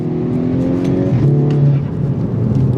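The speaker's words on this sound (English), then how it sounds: "The engine makes a great noise." A VW Golf R Mk6 with an all-wheel-drive four-cylinder engine revs hard and loud from close by, the tone rising, dipping briefly at a gear shift, then climbing again.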